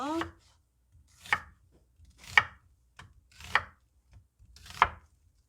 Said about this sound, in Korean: 당근 2분의 1개 정도 넣을 건데요. 요거는 폭을 한 1cm 정도로 해서 예, 잘라주시면 되세요